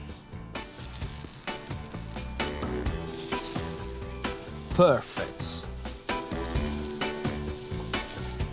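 Carrots in olive oil sizzle and crackle loudly on a hot griddle pan, with steady frying hiss and some stirring clatter throughout, and a brief word spoken near the end.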